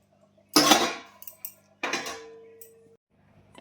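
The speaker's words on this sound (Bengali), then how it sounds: "এবারে এই আলুগুলো এর মধ্যে দিয়ে দেবো, একটু যে থালাটা ধুয়ে জলটা এখানে দিয়ে দেবো" Potatoes are tipped into a cooking pot for handi chicken, then a plate is rinsed and its water poured in: two bright metallic clattering bursts followed by short splashing, close and fairly quiet, with no talking.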